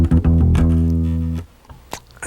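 Fingerstyle funk bass line, played close and clean with short muted notes that lead into a sustained tone, then a faint tail with a few quiet plucks; no one speaks.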